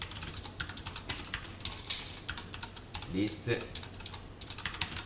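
Fast, uneven typing on a computer keyboard while writing Java ArrayList code: clicky keystrokes in quick bursts with short pauses, close and fairly quiet, and a voice speaks briefly.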